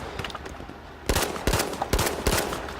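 Rapid shots from a P08 pistol in a video game, four sharp loud reports spaced about half a second apart over a steady background bed.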